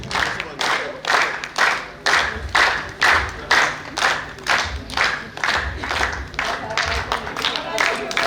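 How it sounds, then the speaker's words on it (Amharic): An audience at a tribute ceremony for veteran Ethiopian artist Kiros Hailesilassie claps in steady, rhythmic unison, loud bursts repeating about twice a second over a voice speaking. "እባካችሁ ጭብጨባ ያስፈልጋል።"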